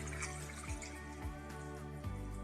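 Water runs and trickles into a cooking pot for boiling frozen ketupat, a soft steady pour with a few faint clunks, quiet and close with no talk.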